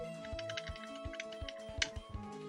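Computer keyboard keys pressed during a Pokémon game session: a steady run of quiet clicking keystrokes over a faint, constant electronic hum.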